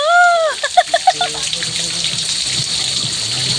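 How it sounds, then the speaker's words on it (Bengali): Water trickles and drips down from above beside the Umngot River at Dawki, a loud, steady rushing splash that follows a short warbling tone at the start. "ওই উপর থেকে জল চুইয়ে পড়ছে"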